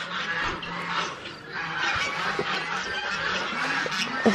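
Geese or other domestic fowl honk and call repeatedly outdoors on a nice day, a steady chorus of overlapping cries at moderate distance, with no talking.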